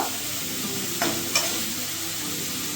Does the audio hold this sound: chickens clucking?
no